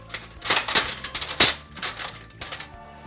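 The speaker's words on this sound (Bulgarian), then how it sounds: "Взимам си една лъжица." A metal spoon is picked up from a kitchen surface, giving a cluster of bright clinks and light metallic rattles over about three seconds, close and fairly loud.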